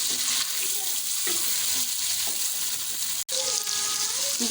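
Steady loud sizzling of chicken frying over low heat in a pan, with occasional stirring scrapes and no talking.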